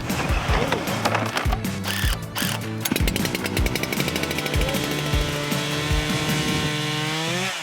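A chainsaw mill flattens a log for an off-grid tiny house build. The loud, close saw engine revs and bogs in uneven bursts as it cuts, then settles into a sustained whine.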